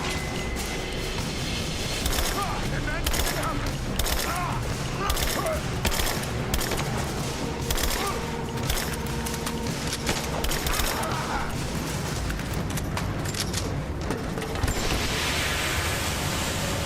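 Dense, rapid video-game gunfire in a chaotic shootout, bursts of automatic shots crackling almost without pause, loud and close, with a shouted voice in the mix.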